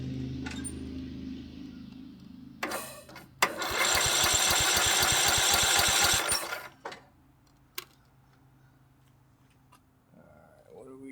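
A Cub Cadet lawn tractor engine roars loudly with the throttle open, a dense steady run of about three seconds that cuts off. Brief clunks and faint talk come before and after it.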